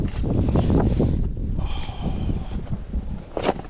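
Strong wind gusts buffet an outdoor microphone in a forested area, producing loud rumbling roars that rise and fall continuously, with a sharp rustle near the end.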